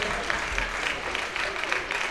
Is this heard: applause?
yes